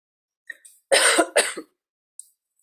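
A few short, sharp coughs in quick succession, close and fairly loud, with a faint throat sound before them and a tiny click after.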